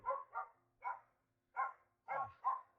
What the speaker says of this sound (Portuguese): Você tá escutando o cachorro ali latir e tudo.